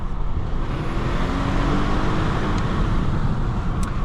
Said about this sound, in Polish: Normalny taki dźwięk czterocylindrówki.